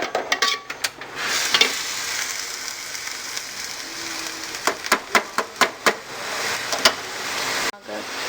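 A chicken Chinese rice dish being stirred after Chinese salt is added, giving a run of close scraping and tapping strokes against the pan over a low background hiss.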